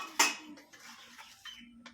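Soft metallic clinks and scrapes of a utensil in a kadai as cinnamon, cloves and cardamom are stirred and fried for a rui fish curry, a few sharp taps spaced apart, quiet and close.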